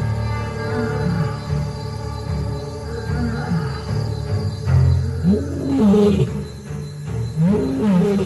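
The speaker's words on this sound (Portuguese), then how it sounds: "Os rugidos revelam a posição dos machos do bando, longe das leoas e de seus filhotes." Male lions of a pride roar in the wild, loud, deep, rising and falling calls that swell into a series of grunting bursts against faint insect background.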